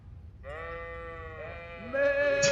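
A priest character in Kingdom Come: Deliverance imitates a goat, giving a drawn-out, wavering nasal bleat that rises into a louder, higher cry near the end, voiced alone and close.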